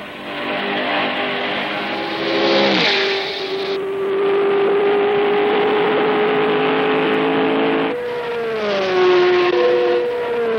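Archival auto race cars, including Johnny Rutherford's car number two and Billy Foster's 16 car, roar loudly through turn three, with engine pitches rising and falling as cars pass one after another, tires briefly squealing.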